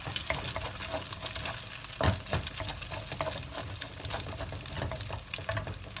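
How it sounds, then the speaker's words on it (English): Eggs frying in a pan: a dense, continuous crackling sizzle heard up close, with scraping stir sounds and one sharper knock partway through. "So I fry the eggs, fry it well"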